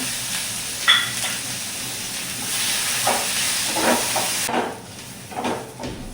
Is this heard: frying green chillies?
yes